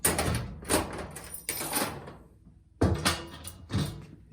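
The metal door of a pharmacy controlled-drugs medicine cabinet is worked for a lock check, giving several close knocks, clunks and rattles in irregular bursts with a short quiet gap between them.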